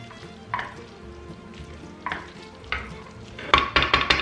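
Pasta being stirred into a tomato sauce in a pan, with several scraping, clattering stirs in uneven bursts over a low simmer, the last strokes louder and quicker.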